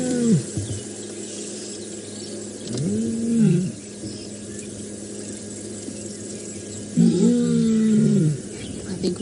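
The Nkuhuma lioness gives three drawn-out moaning calls spaced several seconds apart, each a low, wavering tone that rises and falls, heard at moderate distance over quiet outdoor background.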